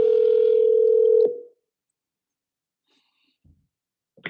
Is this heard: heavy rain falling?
no